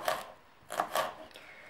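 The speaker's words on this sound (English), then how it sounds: "I only slice them into thin pieces" A knife slices spring onion into thin pieces on a board, three or four quick, close cutting strokes in two short bursts, quiet and without speech.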